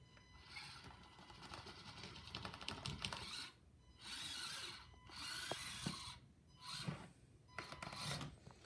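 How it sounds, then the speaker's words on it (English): Winch motor on an SCX24 RC crawler, a small buzzing, ratcheting whir that runs in several short bursts separated by brief pauses, heard close up. "I got the winch up."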